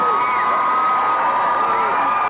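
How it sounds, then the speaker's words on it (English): A packed St. Joseph Cardinals gym crowd at a 1986 high school basketball championship roars steadily during a timeout, a dense wash of cheering, whoops and shouts at constant loud level throughout. "Listen to the St. Joseph crowd here"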